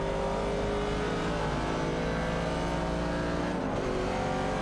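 Race car engines drone steadily in a racing video game featuring a Chevrolet Camaro 70 and a Ford Falcon running neck and neck, a continuous layered engine hum with harmonic whine, loud and unbroken, without speech.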